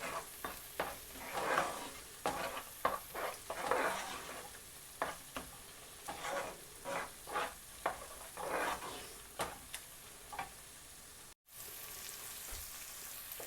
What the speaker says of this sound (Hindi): अब इसको हम अच्छी तरह भून लेंगे प्याज